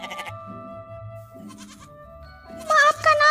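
Goats bleating in a school fable reading, wavering bleats at the start and a louder burst near the end, heard between stretches of a narrator speaking.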